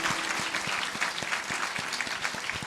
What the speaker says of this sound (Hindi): ताली बजाकर प्रभु की महिमा करेंगे